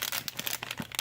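A sealed, puffy plastic bag of coffee capsules is opened with quick, close crinkling and tearing rustles in short uneven bursts.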